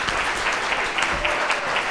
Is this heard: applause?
yes